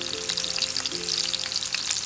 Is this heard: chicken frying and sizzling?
yes